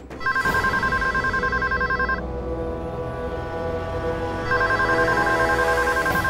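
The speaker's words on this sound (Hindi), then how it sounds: "हम देखते, हम उठा रहे फोन।" A telephone rings loudly in repeated bursts, a long ring, a pause, then ringing again, with a steady background hum underneath.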